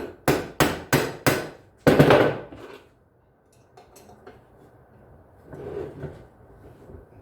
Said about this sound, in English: Get a metal hammer for this one.